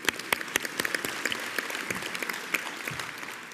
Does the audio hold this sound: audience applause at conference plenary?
yes